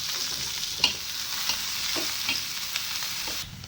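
Onion, garlic, green chili, cumin seeds and a dried red chili frying in oil for an egg curry, with a steady close sizzle, light stirring scrapes and a few soft clinks, no talk.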